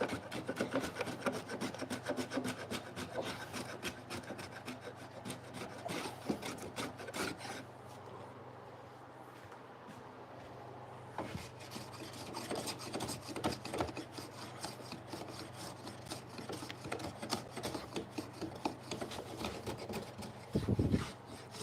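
Wood being rubbed back and forth on a large flat sheet of sandpaper glued to a flat board in a workshop, a steady rasping scrape that runs nearly throughout with a short pause midway, fairly close and alone.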